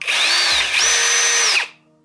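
A Ferrex Pro 40V brushless cordless combi drill whirs steadily in its low-speed mode, its motor pitch dipping briefly mid-run, then it stops abruptly. Loud and close.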